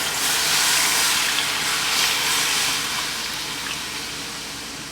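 Two cups of water poured into a pot for Cuban arroz con pollo: steady rushing, splashing water, loud and close, tapering slightly toward the end, with no talking.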